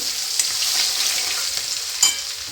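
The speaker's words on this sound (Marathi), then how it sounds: "जिरं राई आणि लसूण असं टाकून घेतलं आता त्याच्यामध्ये कांदा" Cumin, mustard seeds, garlic and onion fry in hot oil for a simple vegetable curry, making a loud, steady hiss with a couple of sharp stirring clinks.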